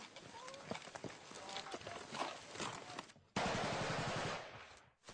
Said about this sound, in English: There's chaos as the shooting begins and the adrenaline flows.